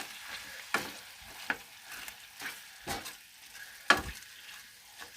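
Vegetables cooking in a pan for a chicken dinner inside a camper van: a quiet, steady sizzle broken by a few sharp clicks and scrapes of stirring at irregular intervals.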